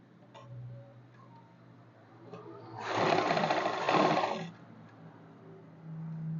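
Sewing machine stitching a seam on a kurti, a short run of fast, even mechanical clatter lasting about a second and a half between quieter handling sounds.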